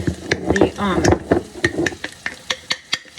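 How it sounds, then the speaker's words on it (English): A regular whisk beats through thick, heavy sourdough starter in a bowl, giving quick rhythmic wet clacks and scrapes that are close and loud, with a brief voice near the start. "just a regular whisk, and it's gonna feel heavy as you're whisking it"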